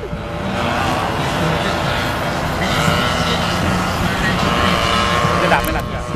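A paramotor engine runs at a steady, loud drone close by for several seconds, with a constant buzzing roar and no pauses.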